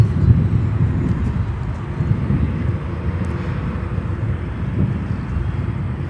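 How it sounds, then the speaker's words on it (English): An EVA Air Cargo plane coming in from Anchorage lands on runway 10 Center at O'Hare, its steady, loud low engine roar rumbling through the whole stretch with wind noise and no break. "And we have next EVA Air Cargo here on 10 Center, coming in from Anchorage in Alaska."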